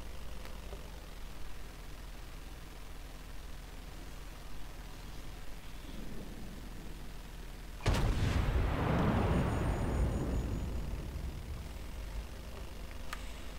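Battleship Iowa's main guns firing shells in a naval video game: a single sudden heavy boom that rolls out into a long, fading rumble over faint steady background noise.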